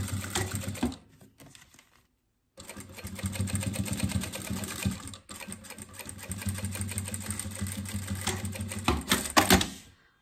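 A sewing machine runs a seam at stitch length 3.5 through fabric with a synthetic lining, a steady close rhythmic whir broken by a short pause before stitching resumes.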